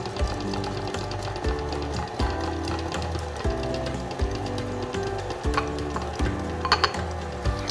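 An electric mixer creaming butter and sugar for vanilla cupcake batter whirs steadily up close, its motor pulsing in a regular beat with light scraping and clicks over the top.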